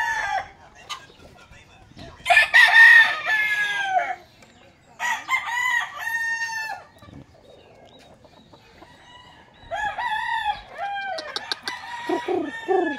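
A rooster crows loudly several times in long drawn-out calls, close by, with short pauses between crows and faint background sounds.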